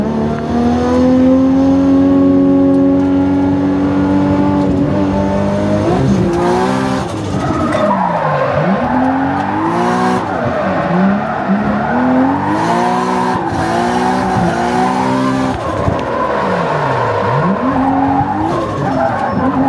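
Race car at a circuit in Japan, engine loud and close throughout, revving up through gears with sweeping pitch rises and drops as it brakes and accelerates through corners, with some tire squeal.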